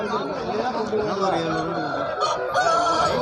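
Roosters and hens at a busy country rooster market in Kavundapadi make dense clucking and squawking, close and loud, mixed with crowd chatter.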